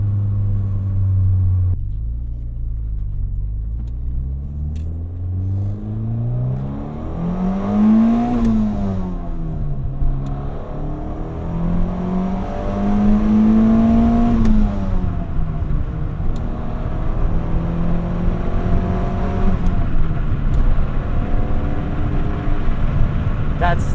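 A 1990 Nissan Pulsar GTI-R engine revs up and down in repeated rising and falling sweeps, loud and close, with voices talking over parts of it.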